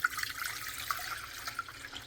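Water pours into a new cooking pot, a soft continuous splashing trickle with faint drips, moderately close and fairly quiet.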